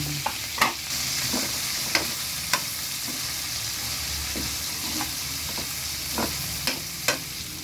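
Chicken frying in a pan and being stirred, a low constant sizzle with sparse, sharp scrapes and clinks of the utensil at irregular intervals, close by and without speech.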